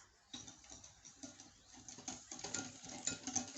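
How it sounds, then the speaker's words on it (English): Egg and sugar being whisked in a bowl for pancake batter, a steady quick patter of the whisk against the bowl, fairly close and soft, with no talking. "Then using a whisk, we are going to whisk this."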